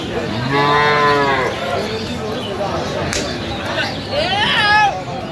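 A dairy cow moos loudly and close by, twice, with a long low call followed by a shorter one, over background crowd chatter at a cattle market in Sylhet.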